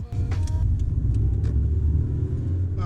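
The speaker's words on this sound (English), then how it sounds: "we'll hop in the car and we'll take this thing for a little drive" A Honda Civic EG hatchback on new wheels is driven, with a steady low engine and road rumble heard from inside the car.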